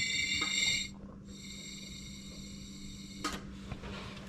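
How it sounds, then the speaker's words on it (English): Air is blown by mouth through a restricted car fuel line, making a breathy, raspy rush at the start and a shorter puff later, over a steady background hum. "I'm gonna blow through this"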